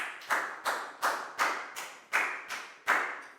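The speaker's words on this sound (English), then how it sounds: "High five and a big round of applause for Lakdau, please, guys" Children in an English class for Year 4 pupils clap for a classmate, about nine separate, fairly soft claps in a loose, even rhythm, each with a quick sharp attack, close by in a quiet room.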